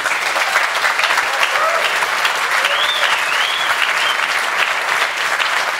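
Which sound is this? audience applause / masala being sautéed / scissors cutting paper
audience applause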